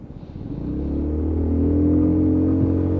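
A blue Lexmoto Titan motorcycle at about 6,000 miles pulls away from a standstill, its engine rumble building steadily into a strong, sustained roar that stays loud and close, with no talking.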